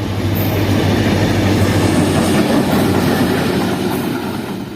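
Toy train on a narrow-gauge line through Changa Manga forest in Pakistan, rolling past a level crossing with a steady close rumble and clickety-clack of wheels throughout, fading slightly at the end.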